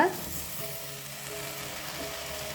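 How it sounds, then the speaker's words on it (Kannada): Ground powder stirred into hot oil in a pan, a steady close sizzle and fry with soft scraping of the stir that holds through the whole short stretch. "ಇದನ್ನು ನಾವು ಫಸ್ಟ್ ನೀಟಾಗಿ ಎಣ್ಣೆಯಲ್ಲಿ ಮಿಕ್ಸ್ ಮಾಡ್ಕೊಳ್ಳೋಣ"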